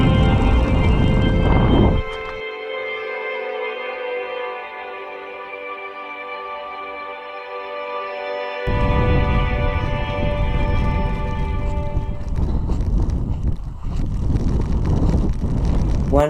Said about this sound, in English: it is very windy and snowy up here